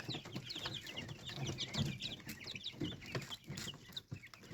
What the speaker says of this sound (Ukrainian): Вже всі підросли, ось такі перепілочки здорові вже